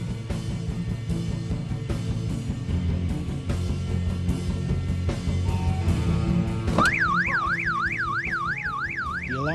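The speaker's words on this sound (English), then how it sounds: "The alarm scares him." A car alarm in the film 28 Days Later starts up amid a droning, rhythmic background score, then blares a loud rising-and-falling electronic wail that repeats in quick cycles.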